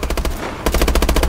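Rapid automatic gunfire in the video game Call of Duty Advanced Warfare, loud close bursts of evenly spaced shots with a short pause midway before the firing resumes.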